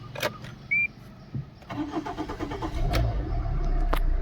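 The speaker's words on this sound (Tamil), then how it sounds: "ஸோ இன்ஜின் ஸ்டார்ட் பண்ணி பார்க்கலாம்." A used Tata Indigo CS diesel car with about 100,000 km is started: a brief cranking whir, then the engine catches and settles into a steady, rumbling diesel idle that grows fuller, heard up close without talk.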